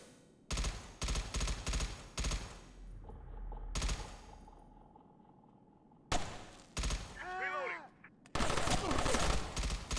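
Gunfire in the SOCOM 3 video game crackles in dense rapid bursts, with automatic fire and single shots alternating between short pauses, loud and close, and game voices break in briefly between volleys.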